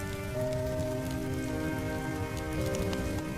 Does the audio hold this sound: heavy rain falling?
yes